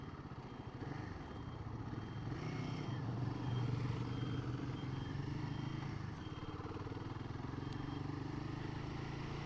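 A Royal Enfield Guerilla motorcycle is ridden along country roads toward Chatsworth, its engine a steady, even drone that holds for the whole stretch and swells slightly midway.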